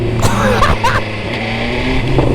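A 2025 BMW S1000R motorcycle engine revving and crackling nearby, with sharp throttle blips over a steady loud drone, and a voice briefly audible.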